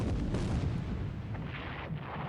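Heavy cruiser Minneapolis opens fire in the naval wargame War in the Pacific: a loud, sustained rumbling roar of big-gun fire with no break and no voices.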